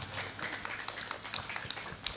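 Applause for a quiz team at a school quiz competition, a faint, brief patter of clapping from a small group, fairly distant and steady for a couple of seconds.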